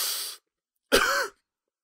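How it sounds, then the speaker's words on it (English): A smoker's cough comes as two harsh, close bursts, one brief rasp followed by a longer throaty hack after a short pause, with nothing else around it. "That's my smoker's cough catching up to me."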